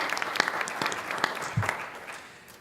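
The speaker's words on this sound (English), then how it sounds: "Let's give him a round of applause." A conference audience applauds for Congressman Clay after his primary win, a burst of clapping that peaks early and gradually thins and fades over a few seconds.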